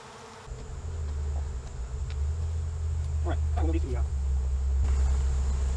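Honey bees crowding a honey frame in a hive, a steady droning buzz throughout with brief higher clicks and chirps partway through, heard close and continuous.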